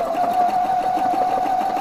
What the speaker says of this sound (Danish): Og så starter jeg med at sy.